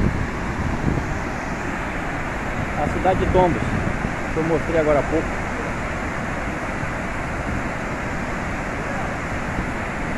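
A waterfall near the town of Tombos in Minas Gerais sends up a broad, steady rush of falling water under wind buffeting. Someone talks over the roar for part of the time.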